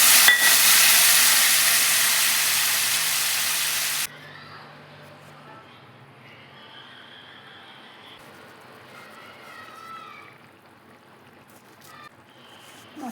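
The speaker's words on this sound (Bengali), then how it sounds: "ভালো করে ফ্রাই হয়ে গেছে, আমি জল দিয়ে দেবো।" Spice masala for a home-style Bengali fish curry with cauliflower and potato sizzles loudly in a pan, then the hiss drops sharply when water is poured in, leaving softer bubbling and stirring under a voice.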